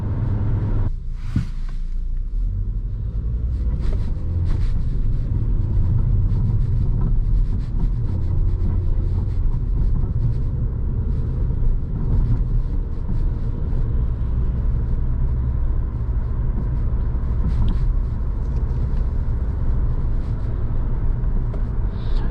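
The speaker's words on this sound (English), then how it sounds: "pretty quiet in terms of road noise. I'm not hearing really much tire noise or road noise in here" A steady low road rumble and tire hum fill the cabin of a 2010 Volkswagen Jetta SEL while it is being driven. The noise stays even and continuous throughout, with no one talking.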